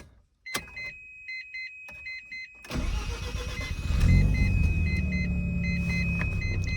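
A 1994 Mazda FD RX-7 rotary engine warm start: a few soft clicks and a whirring seat motor, then a short crank catching into a steady, loud idle rumble that swells a bit and holds close by.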